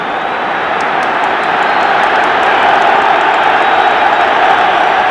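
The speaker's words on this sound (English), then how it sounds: "the exciting sound of a Wembley crowd rising to encourage England at the moment" A huge Wembley football crowd roars to encourage England during a 1974 World Cup qualifier against Poland, a dense, continuous wall of cheering that swells slightly and stays loud throughout.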